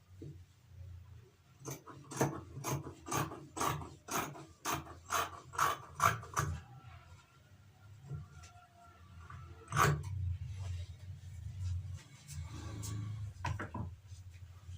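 Scissors snipping through skirt fabric in a rapid regular series of crisp close cuts, followed by a few slower scattered snips and soft handling rustles, with no one talking.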